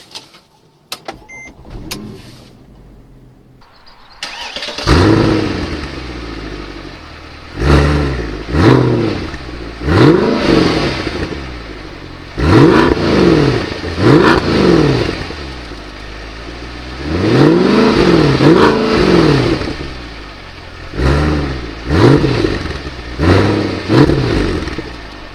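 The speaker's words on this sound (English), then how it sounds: "let's have a drive in this CLK63 AMG." A Mercedes CLK63 AMG engine cranks and fires up, then pulls away with a series of loud, rising and falling revs as it accelerates through the gears, heard from inside the car.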